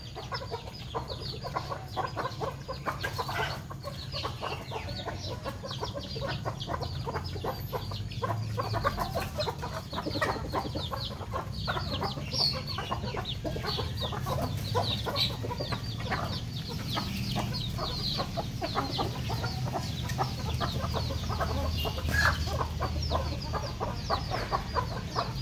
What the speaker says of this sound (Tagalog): Yan, manok ni Isko yan.